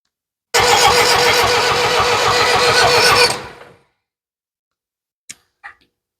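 Ford 7000 tractor engine cranking and catching, a loud rough rumble for about three seconds that quickly dies away, followed by a couple of faint clicks in near silence.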